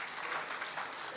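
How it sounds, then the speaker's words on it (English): Audience applause at a national annual public lecture, a brief, dense, steady patter of many hands clapping with no gaps. "Please, a round of applause for him."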